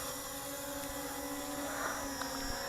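During automatic takeoff, the motors of an MJX Bugs 18 Pro drone give a steady, faint buzzing hum with a constant pitch, heard alone without voices.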